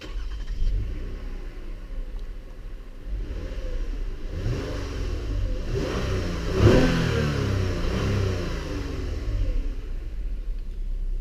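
A 2015 Toyota Aurion Presara engine fires up by push button and revs, a close, throaty rise and fall of engine noise with a brief peak as the throttle is blipped, settling into a steady idle.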